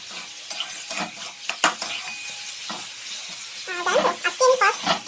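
Ginger-garlic paste fries in a pan while it is stirred, giving a close, moderate sizzle with irregular scrapes and knocks of a spoon against the pan, along with some faint background sounds and a few brief tones.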